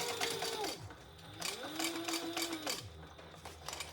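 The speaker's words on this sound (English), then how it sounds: "let's sew this together." An industrial sewing machine stitches a thick bag seam in quick motorized bursts, its whirring pitch rising and falling as it starts and stops, close and fairly loud.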